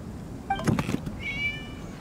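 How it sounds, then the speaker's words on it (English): Cat meowing in the video game Genshin Impact, a single short clear meow followed by a higher drawn-out mew, close and alone. "it was just a cat"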